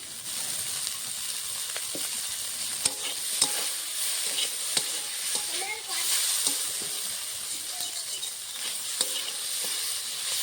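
Mashed taki fish frying in raw mustard oil while being stirred, a steady close sizzle with repeated scraping and clinks of the spatula throughout.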